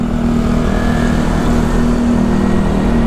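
Steady road traffic on a Bali street early in the morning, supplier cars and motorbikes rolling past with a continuous engine drone and hum, fairly close and loud with no gaps, no speech.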